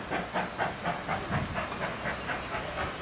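Steam train on the line at Watchet, heard as a rhythmic hiss and chuff repeating in even pulses, moderately loud and close, with no voices.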